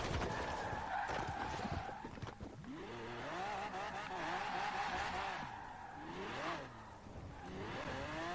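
An older Chevrolet Chevelle engine in Forza Horizon 4 roars loudly throughout, climbing and dropping in pitch through repeated gear shifts, with brief tire squeal mixed in.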